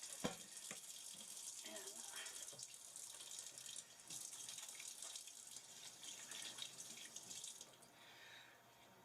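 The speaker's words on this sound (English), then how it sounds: "let me wash my hands." A kitchen tap runs steadily with a bright, hissing flow while hands are washed, broken by a few knocks and clinks at the sink. The stream thins toward the end, and a voice briefly speaks.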